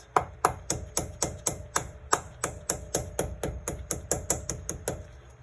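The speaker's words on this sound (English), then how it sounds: "first I'm gonna do my rubber mallet" A rubber mallet strikes the wheel hub of a Mercedes W212 E63 in a fast, steady series of about twenty sharp blows, each with a brief ringing tail, close and loud.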